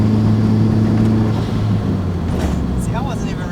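A Nissan 240SX coupe or hatch, one fitted with a KA24DE or SR20DET engine, pulls away with a steady mid-pitched engine drone that fades slightly as it goes, a voice talking over it.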